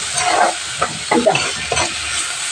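Onion and tomato sauté in oil for chicken biryani, a steady close sizzle broken by several scraping stirs of the pan, with no talking.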